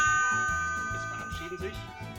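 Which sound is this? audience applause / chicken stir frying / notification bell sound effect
notification bell sound effect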